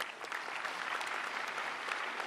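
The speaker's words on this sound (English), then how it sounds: "Can we have a round of applause" An audience at the valedictory session of a UNESCO India Africa hackathon gives a round of applause for the Governor of Uttar Pradesh, a steady, moderately distant wash of many hands clapping.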